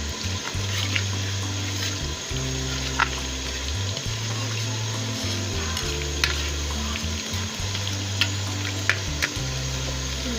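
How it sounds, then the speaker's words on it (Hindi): Garlic, ginger and turmeric frying in a pan, a steady close sizzle with a low continuous hum underneath and a few small clicks and pops scattered through. "मैंने ये 1 बड़ा चम्मच हल्दी शामिल किया है और इसमें लहसुन अदरक शामिल किया है। ये फ्राई हो रहा है।"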